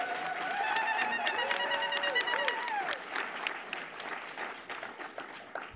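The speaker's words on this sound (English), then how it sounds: "round of applause for that" Applause from an audience gathered for the It Stops Here event with Rueben George, dense clapping mixed with whoops and a few whistles, steady at first and then thinning toward the end.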